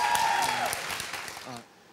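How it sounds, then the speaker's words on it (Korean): An audience at a talk concert with a singer-songwriter applauds under a host's speech, the clapping fading out sharply after about a second and a half. "박수 한번 보내주셔야죠"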